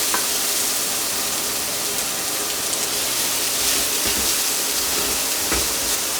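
Onion and garlic frying in a pan, a loud, dense sizzle with crackling bursts and occasional stirring scrapes, steady throughout and close up, with no speech.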